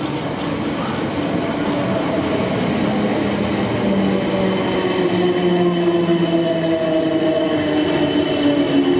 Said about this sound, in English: I will pick up a train to take me back to Waterloo